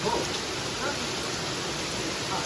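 Dense, steady roar of heavy rain pouring down, a constant wash of noise with no pauses.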